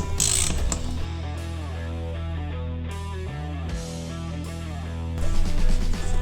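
A 4mm Allen ratchet backs out the outer cover bolts on an Indian TS 111 motorcycle, giving close, steady clicking pawl ratchets in repeated runs with short pauses between strokes.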